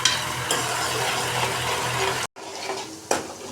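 Ginger, green chilies and onions fry and are stirred in a pan for a black chickpea curry, a steady close sizzle with a brief break and a scrape of the spoon.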